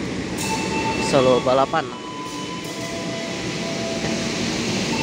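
Inside a moving Fajar Utama YK passenger train travelling from Cirebon to Yogyakarta: a steady rumble and rail hum while the Argo Dwi Pangga passes, with a brief loud whoosh and a person speaking briefly over it.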